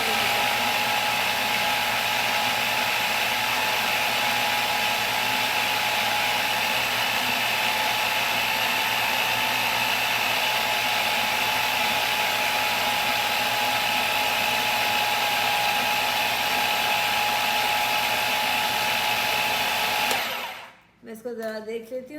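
An electric grinder minces beef for kofta in a home kitchen, a loud, steady high-pitched motor whine running without a break for about twenty seconds before it switches off and the machine is handled.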